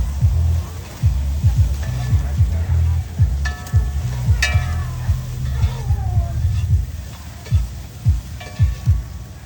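Onions sizzle steadily in a frying pan, close and continuous, with a utensil repeatedly stirring and scraping the pan in rhythmic strokes and a faint voice now and then.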